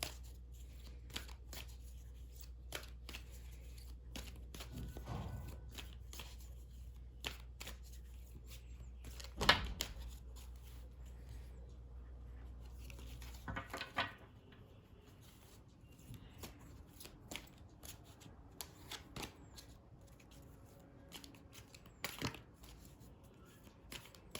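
Oracle cards being shuffled and drawn by hand, a quiet papery riffle with scattered soft flicks and taps, close and faint, with a low hum dropping away midway.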